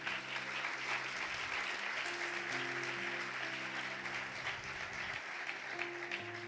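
A church congregation applauds loudly and steadily for several seconds during a sermon, with sustained organ or keyboard chords playing underneath the dense clapping.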